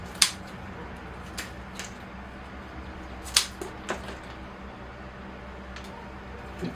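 Scissors pruning a ficus bonsai, a handful of sharp, close snips spaced irregularly over quiet room ambience.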